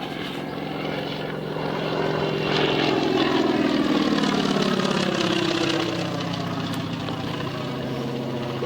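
A CAC Wirraway warbird flies low and slow at the Serpentine Air Race, its radial propeller engine droning steadily and swelling louder as it passes mid-way before easing off, continuous and alone.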